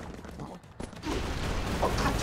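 Gunfire in the Broforce video game: a dense burst of rapid shots crackles continuously through the second half after a brief lull, with busy game noise around it.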